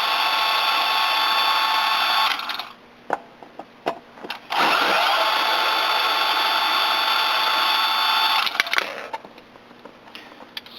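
A power screwdriver backs screws out of a Logitech G29 brake pedal. Two long, steady, high whirring runs are heard close up, separated by a short gap with a few clicks and taps.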